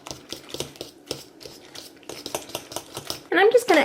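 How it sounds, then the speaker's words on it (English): Spinach is pressed and stirred into egg in a bowl, with close scraping and clinking of a utensil against the dish in quick, uneven strokes, ending in a louder burst of clatter. "we'll kind of press this around and mix this up with the egg"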